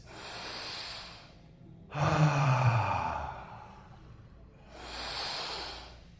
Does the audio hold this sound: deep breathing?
yes